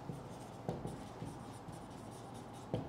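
Chalk or marker strokes on a board during a chemistry lecture, a quiet steady scratching with a few sharper taps, alone with no voices.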